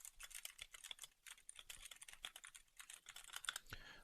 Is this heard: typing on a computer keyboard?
yes